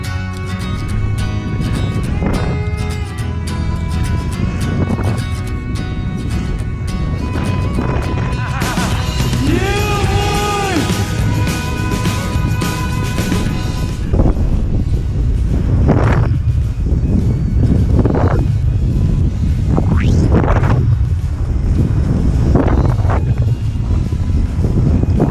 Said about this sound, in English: Heavy wind effect.